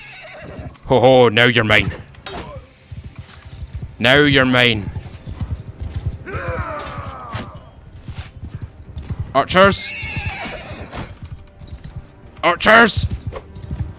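Horses in the Mount & Blade II: Bannerlord battle neigh loudly several times amid steady galloping hoofbeats, with someone shouting excitedly over the fighting.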